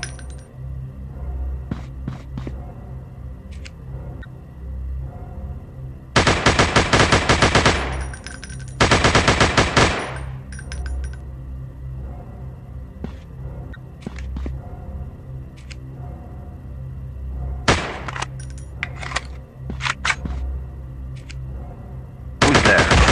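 Automatic gunfire from a battle royale shooting video game: two long, loud bursts of rapid fire, then a few shorter volleys later, with clinking and softer effects between them.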